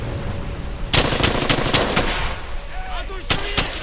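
Loud bursts of rifle and machine-gun fire in the WWII shooter Brothers in Arms: Hell's Highway, a sudden rattling volley followed by scattered sharp shots over background battle noise, with voices now and then.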